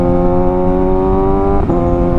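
A 2022 Kawasaki ZX6R sport bike engine held at about 6,000 RPM, a loud close steady high-pitched drone with a slight dip in pitch near the end.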